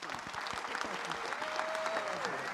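Steady applause fills a fire rescue academy graduation ceremony, a crowd clapping continuously at moderate, somewhat distant volume, with a thin tonal sound rising briefly over it.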